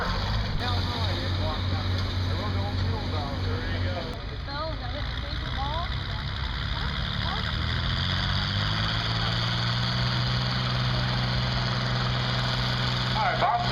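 An International 660 tractor engine runs at a tractor speed test at a threshermen's reunion in Pontiac, Illinois, a steady low drone with a rising pitch shift midway, heard under an announcer talking over a loudspeaker.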